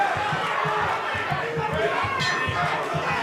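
A crowd at a kickboxing bout cheers and chatters in a continuous roar, with speech mixed in and rhythmic low thuds beneath.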